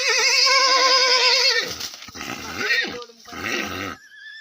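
A horse gives a loud, wavering whinny lasting about a second and a half, followed by snorting and rough vocal sounds.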